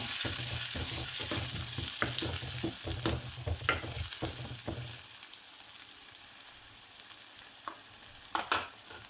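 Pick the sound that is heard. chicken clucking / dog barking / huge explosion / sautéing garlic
sautéing garlic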